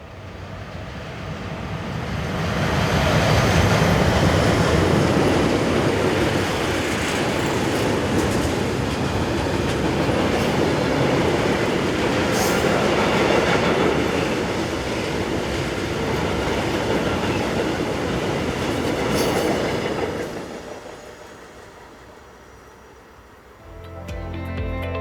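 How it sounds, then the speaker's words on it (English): Freight train of empty tank wagons hauled by locomotive 43112 on the Swiss main line near Olten, passing close by as a loud, sustained roar and rattle of wheels on rail that builds quickly, holds for about twenty seconds, then drops away, with no voices. "Take this train for example of empty tank wagons, powered by 43112"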